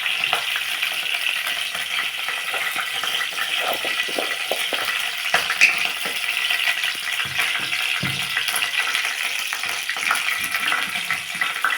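Cluster bean curry sizzling and frying in a pan, a steady close hiss with scattered small crackles and light stirring scrapes throughout, no voices.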